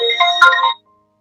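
A phone ringtone from an incoming call plays a short, bright melodic phrase for under a second, clear and fairly loud, then cuts off into silence.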